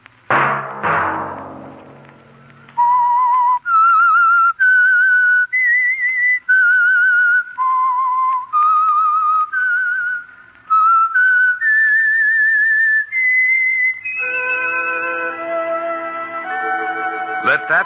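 A clear, solo whistled melody of distinct sustained notes rising and falling, preceded by a brief burst of noise at the start.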